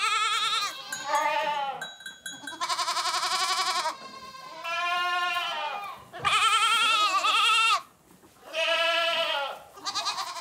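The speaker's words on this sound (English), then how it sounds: "Each kid's cry is a call to a particular nanny goat." Goat kids bleating loudly and repeatedly, calling to nanny goats, several high wavering cries overlapping in bursts with brief pauses between them, close to the listener.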